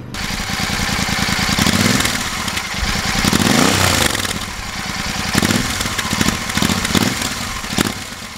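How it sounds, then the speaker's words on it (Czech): A Royal Enfield Super Meteor 650 motorcycle's twin-cylinder engine and exhaust, a loud, close, throbbing rumble that swells and eases as the throttle is blipped, with a rhythmic pulsing beat throughout. "zvuk motoru nebo zvuk výfuku"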